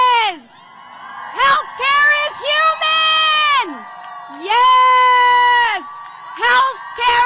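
A rally crowd on Capitol Hill cheers and whoops in loud repeated bursts, with long sustained yells and whistling shouts rising and falling over several seconds.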